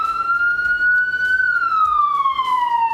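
Italian fire engine siren sounding outdoors, a steady two-tone wail that holds and then drops in pitch as the vehicle passes close by, loud and alone with no talk.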